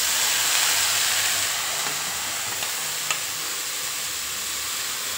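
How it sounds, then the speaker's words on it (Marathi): Cabbage tossed into a hot pan with turmeric, giving a steady, close sizzle and frying hiss that eases slightly after the first moment, with a soft stirring clink partway through. "त्यानंतर यामध्ये आता टाकून घ्यायची ही पत्तागोबी"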